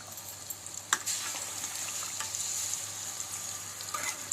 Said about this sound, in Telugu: మీడియం ఫ్లేమ్లో పెట్టి వేయించుకోండి